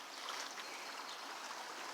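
Water flowing steadily in Pine Tree Brook along Central Ave in Milton, a constant close rushing and trickling with no pauses.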